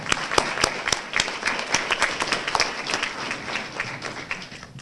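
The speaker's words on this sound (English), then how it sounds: "give yourselves a round of applause" A graduation audience applauds themselves: a full crowd clapping briskly with distinct individual claps near the front, loud and continuous, tapering off slightly at the close.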